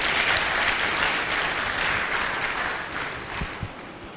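A crowd applauds steadily, dense clapping filling the space without a break, tapering slightly toward the end.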